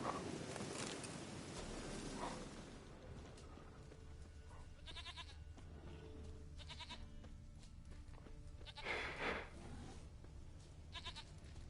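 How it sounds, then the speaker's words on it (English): Goat bleating in the video game The Witcher 3: Wild Hunt, several short quavering bleats at moderate distance over a quiet outdoor ambience with faint rustling, no talking. "Hello, fucking goat."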